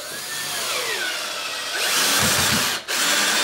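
A power drill drives stainless steel screws into an aluminum corner cap on a boat transom, giving a short, close burst of whirring bursts in the second half, alone with no talk.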